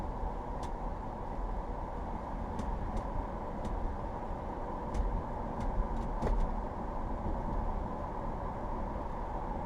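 Car driving along a main road in light afternoon traffic, recorded from inside by a front dashcam: a steady low road and engine rumble with a few faint ticks and clicks, and no voices.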